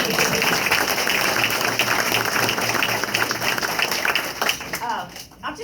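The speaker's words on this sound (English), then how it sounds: "Let's give them a round of applause." Applause from an audience at a gathering for a Tennessee House District 35 Republican candidate, a dense wash of clapping that fills the clip and thins toward the end, with voices mixed in.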